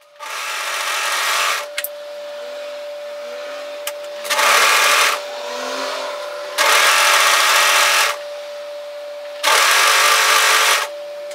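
An overlocker runs in three or four bursts along a fabric edge, a loud fast whirring hum for a couple of seconds at a time, with quieter handling between runs.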